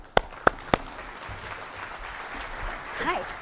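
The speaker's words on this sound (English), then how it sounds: "So let's have a round of applause for Dr. Dwenger." Applause from a seminar audience at a 2025 Michigan seminar: a few sharp separate claps, then a steady spread of clapping close by. A voice starts speaking near the end.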